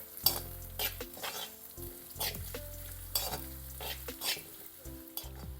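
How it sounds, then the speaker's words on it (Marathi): Spring onion greens are sautéed in a pan for Jalgaon-style baingan bharta, a close frying hiss with repeated spatula scrapes and knocks, plus a low steady hum running underneath throughout. "यामध्ये घालूया कांद्याची पात परतून घेऊ"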